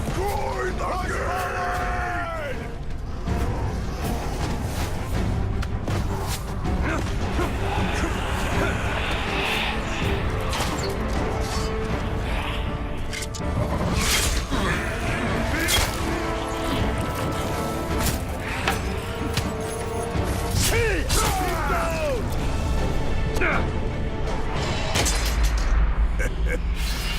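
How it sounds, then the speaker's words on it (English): A gate being smashed and destroyed in the video game Shadow of War, with booming impacts, groaning and yelling warriors layered over a constant loud battle din and shouted voices. "Destroy the gate!"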